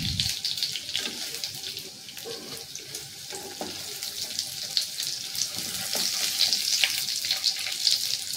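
Paneer fries in a pan until lightly browned, giving a steady, close sizzle that runs the whole time with small crackles, no voices.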